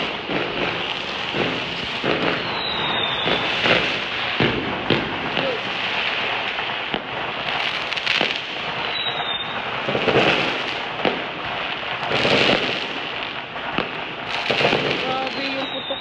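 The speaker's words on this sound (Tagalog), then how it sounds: "Grabe yung putok doon, no? Parang sasabog yung bahay." Firecrackers crackle and pop in dense, continuous volleys on the last day of Chinese New Year, loud and sustained with sharper bursts throughout, while people talk nearby.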